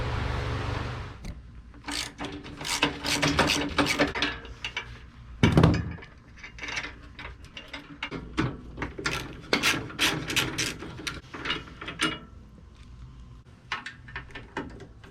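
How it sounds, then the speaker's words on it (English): A ratchet works bolts free from saddle bag guards on a Road Glide motorcycle, giving bursts of fast clicking and scraping metal rasps with brief pauses, close and fairly quiet, no voices. "Alright, now I got all the bolts undone."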